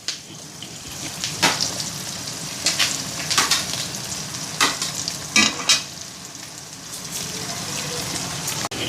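Garlic, dry red chillies and curry leaves spit and crackle in hot oil for a ridge gourd fry. Sharp pops and stirring scrapes rise over a continuous close sizzle.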